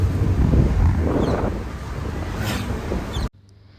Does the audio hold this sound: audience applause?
no